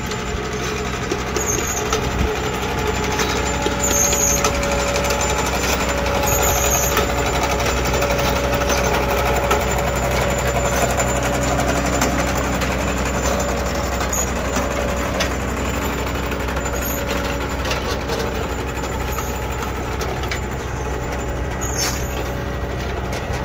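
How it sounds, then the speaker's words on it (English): An automatic Brouwer sod harvesting machine cutting, rolling and stacking pallet bermuda sod runs continuously, its engine droning steadily with a rattling, mechanical chatter throughout, loud and close, with no pauses. "I'm going to show you guys how we harvest pallet sod with our automatic brower machine"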